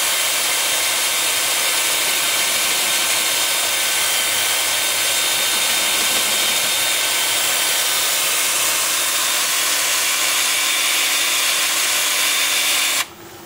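A Velcro-backed sanding pad rubs against a spinning wood turning on a lathe, a steady loud hissing whir held for the whole stretch and cutting off abruptly at the end.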